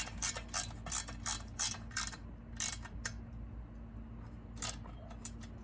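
Quick ratcheting clicks in rapid bursts as an Allen screw is driven back into a Husqvarna 395XP chainsaw, close and sharp, with short pauses and a few final clicks.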